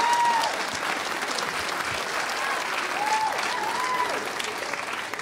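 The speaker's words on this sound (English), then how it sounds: "Let's have a really big round of applause for Tilak, everyone." Wedding guests in a hotel function room applaud steadily after a performer, a dense, continuous round of clapping that stays at even strength, with a few faint whoops or voices mixed in.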